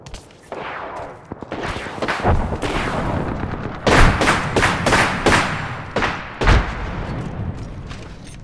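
Gunfire from the video game Apex Legends: dense bursts of shots and heavy booms fill the stretch, hard impacts standing out against a busy, sustained battle din.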